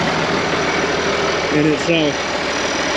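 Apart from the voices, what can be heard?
IH 4166 tractor engine running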